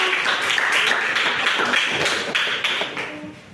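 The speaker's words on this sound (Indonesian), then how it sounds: "Beri aplaus untuk kita semua." A high school classroom breaks into a short round of clapping, many hands at once, dense and close, fading away toward the end.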